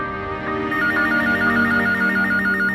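A telephone rings with a repeating electronic trill, steady and fairly loud, sounding alone with no voices.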